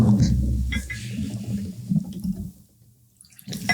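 A shot being poured during a casual podcast game: a brief gurgle of liquid splashing into a small glass, close and fairly loud, ending in near silence, then a soft clink.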